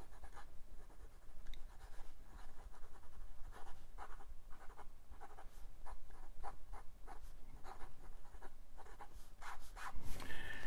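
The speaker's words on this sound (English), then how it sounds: "Now we have to write with it." Scratchy nib strokes from a Wingsung 699 piston-filler fountain pen moving across paper, a steady run of short close-up scribbling bursts over about ten seconds, with a brief louder rustle at the end.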